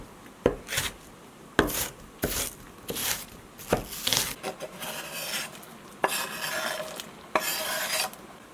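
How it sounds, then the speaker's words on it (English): Sweet Walla Walla onions being chopped on a cutting board, a run of sharp knife strikes arriving in uneven bursts with scraping between them, close and moderately loud, with no talking. "I'm going to chop up 4 onions"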